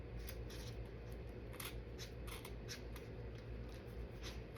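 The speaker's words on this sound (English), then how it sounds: "I should be using my fabric scissors" Scissors snip through grosgrain ribbon in a run of quick, crisp cuts, close and fairly faint over a low steady hum.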